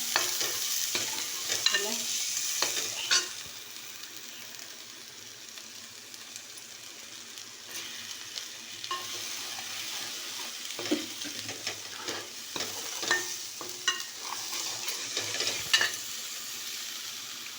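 Food roasting in a pan for a Kolhapuri-style curry, a soft continuous sizzle with scraping stirs and occasional utensil knocks, moderately quiet with no talking.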